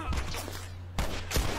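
Sharp gunshots ring out in The Last of Us Remastered as a player character is hit: two or three loud, abrupt cracks spaced apart over a low droning background, with a voice reacting.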